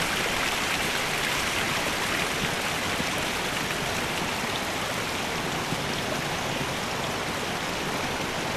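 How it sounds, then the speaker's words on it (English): Water rushes steadily down a highland valley stream on Mount Ishizuchi in deep winter, a dense, even, close wash of splashing flow with no voices. "Even in the dead of winter, water still flows from highland valleys."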